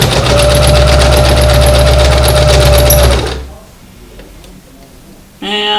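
A sewing machine runs loud and steady, stitching a drawstring bag seam with a rapid, even mechanical chatter, then stops abruptly, leaving quiet before a short burst of voice.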